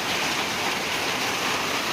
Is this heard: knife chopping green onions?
no